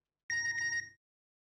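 A mobile phone message notification tone, one short bright electronic chime lasting under a second, heard alone against silence.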